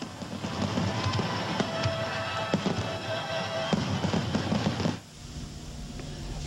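Crackling fireworks with sharp bangs and popping bursts, a loud continuous barrage for about five seconds that cuts off abruptly, used as a sound effect in a radio ad for Mets Fireworks Night at Shea Stadium.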